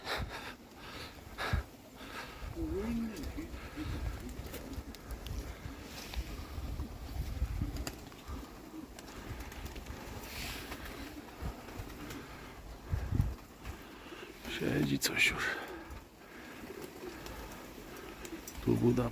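Budapest tumbler pigeons in a loft give soft, low cooing calls, scattered and fairly faint, with quiet human voices and rustling in the background.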